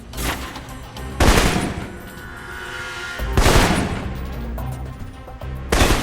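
Assault rifle gunfire in the video game Alpha Protocol, with three loud bursts of rapid shots separated by stretches of lower game noise and rumble.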